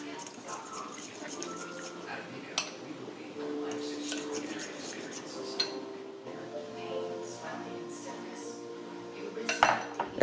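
A utensil clinks and scrapes against a bowl while a butter, oil and spice mixture is mixed for a Thanksgiving turkey roast, with irregular metallic taps and a few sharper knocks near the end.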